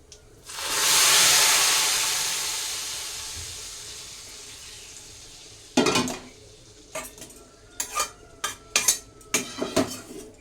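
Hot tempering spices hit khichuri in a clay pot with a loud, rising sizzle and hiss that fades over a few seconds, followed by several clanks and scrapes of a utensil against the pot.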